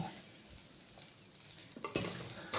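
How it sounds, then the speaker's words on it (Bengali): Potatoes and green plantain fry in hot oil with a dense, continuous close sizzle, joined near the end by a couple of scraping stirs. "আলু আর কাঁচকলাটা খুব সুন্দর করে ভাজা হয়ে গেছে"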